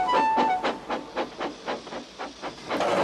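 A cartoon steam locomotive chuffs away in a steady rhythm of hissing puffs, about a dozen beats with a whistle-like tone at the start, loud and close.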